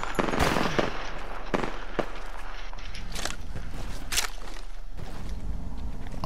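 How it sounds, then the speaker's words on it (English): Gunfire shot into the air in an Apex Legends–style shooter game, dense rapid bursts of shots with some louder cracks, steady and close throughout, with no talk. "They're shooting in the air like me"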